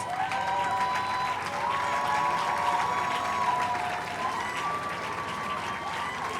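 A crowd at a financial intelligence panel session applauds as a panellist is welcomed on stage, a continuous wash of clapping heard from across a hall with music or tones running beneath it.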